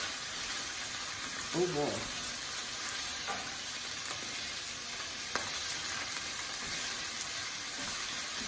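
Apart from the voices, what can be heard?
onion and garlic frying in oil for a Tunisian tagine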